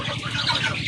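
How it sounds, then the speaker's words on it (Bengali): Geese on a Bangladeshi poultry farm keeping chickens and chicks, making a dense, steady stretch of honking and squawking calls with wing flutter, close and fairly loud, with no talk. "এই দুইটা দেখতে পাচ্ছেন রাজহাঁস"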